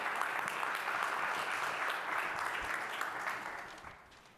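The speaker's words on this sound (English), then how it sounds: "So a big round of applause." Conference audience applauding at the opening of a women's leadership event, a full, even round of clapping from a sizable crowd that holds steady and then begins to fade toward the end.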